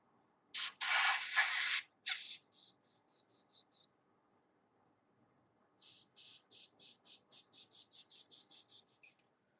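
Airbrush spraying red paint, a long steady hiss followed by a run of short bursts, then a pause and another quick series of rhythmic spurts, close and fairly loud.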